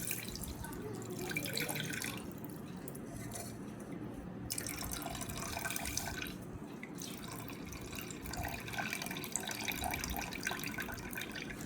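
Watermelon juice pours into a saucepan with a soft, continuous trickle and splash of liquid, faint and close, steady for several seconds.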